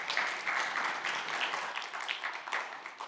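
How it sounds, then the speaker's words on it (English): A conference audience gives sustained applause for a speaker about to present on cloud security, a dense, steady clatter of many hands that holds for the whole stretch at moderate distance. "Could y'all please give her a round of applause?"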